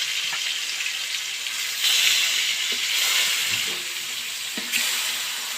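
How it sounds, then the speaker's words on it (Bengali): Hilsa fish pieces rubbed with turmeric and salt fry in hot oil, giving a loud, close, continuous hissing sizzle with occasional pops and spatters. "এবার মাছগুলো ভেজে নেব।"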